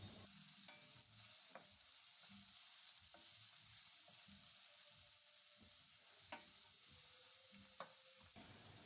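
Paneer bhurji stirred and fried in a pan, a soft continuous sizzle with a spatula scraping and clinking against the pan in irregular strokes, quiet and close, no voices.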